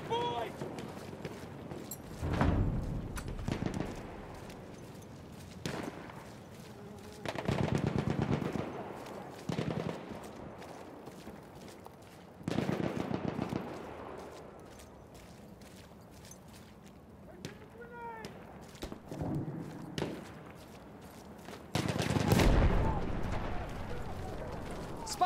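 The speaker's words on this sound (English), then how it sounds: "Spotted a machine gun!" Machine gun and rifle fire in the Battlefield 1 World War I shooter game, irregular loud bursts and rattling volleys spread over the clip, with quieter battlefield noise and voices in between.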